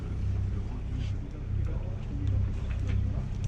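Sailboat engine ticking over at 1100 rpm while leaving an anchorage, giving a steady low throbbing hum with a rhythmic pulse, close and continuous, with faint water and wind noise around it.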